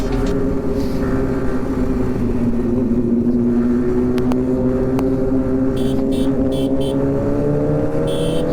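A BMW S1000 RR superbike rides along with a steady, droning engine note that climbs gently in pitch as it accelerates, loud and close throughout, with a few sharp clicks near the end.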